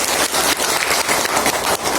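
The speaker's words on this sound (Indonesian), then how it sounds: "Tepuk tangan dulu dong" Dense, steady applause from an audience of parents and teachers at a school plenary meeting and parenting session, a continuous loud wash of clapping with slight dips in intensity, close and without speech.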